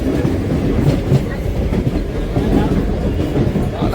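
Loud, steady rumble and rhythmic clickety-clack of a passing train near Ambernath station, filling the whole stretch as a continuous near roar without a break.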